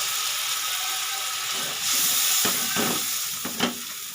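Strained mustard water poured into a frying pan where fish cooks in oil, a steady close sizzle and hiss with a few clinks of a spatula against the pan and no voices.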